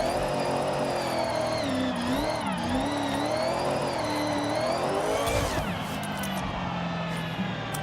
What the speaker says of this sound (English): That exhaust sounds terrible.